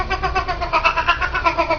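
An unhappy cat caterwauls up close in loud, wavering yowls that rise and fall in a repeated rhythm, with no voices over it.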